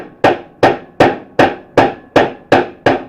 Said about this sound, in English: Let me use my high-tech hammer.